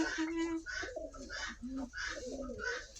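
Pigeons cooing in low, throaty, rolling calls that repeat back to back, close by in a pigeon loft, with no clear talking over them.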